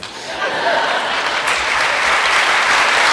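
Sustained applause fills a hall at a high school senior awards night, a thick, even roar of many hands clapping that swells slightly and holds steady throughout.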